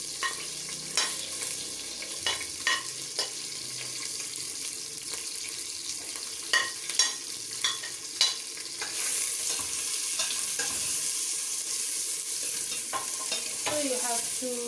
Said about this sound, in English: fry them until they turn the color into golden brown